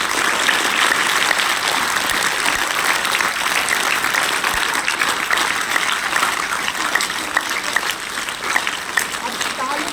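Schoolchildren clap their hands continuously during a school yoga class, a dense, even patter of many palms lasting throughout, with an instructor's voice talking over it.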